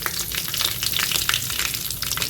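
Asafoetida dropped into hot oil sizzles and crackles steadily for a couple of seconds, a bright dense frying hiss with small pops, close and alone, while cooking a Goan white peas curry.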